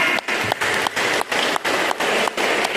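A church congregation at an Ash Wednesday Lenten sermon breaks into loud, full-room clapping that swells in regular pulses with brief dips between them, almost like a rhythmic group clap.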